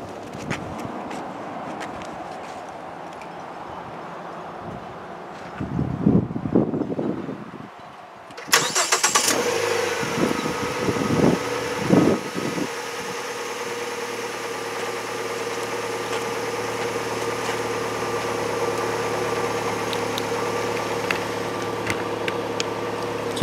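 A 2010 Ford Fusion SL cranks briefly, fires up with a surge and settles into a steady, even idle, heard close and loud for the rest of the clip.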